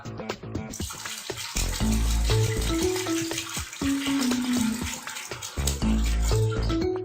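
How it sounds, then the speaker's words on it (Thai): Soda poured into an ice bucket, a continuous fizzing, splashing pour with clinking ice and occasional knocks, loud and close throughout. "เทลงไปเลยครับ หยดทุกซ่า โซดาสิครับ"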